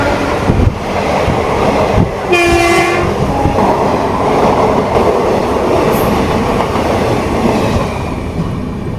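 A local train rumbles past with rhythmic clattering wheels, loud and close, and a horn sounds briefly partway through.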